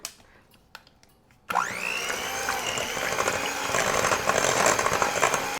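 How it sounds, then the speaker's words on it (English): Eggs being whisked into cream cheese with an electric mixer, which starts abruptly after a few faint taps and then whirs steadily and loudly, close by, its pitch rising slightly as it runs. "I'm going to go ahead and give this a little whisk."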